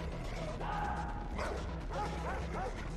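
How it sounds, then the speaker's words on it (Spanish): A dog in the Far Cry 3 video game barks and yips in short bursts with whimpering tones over steady game ambience and low rumble, moderately loud. "Está el maldito perro, tío"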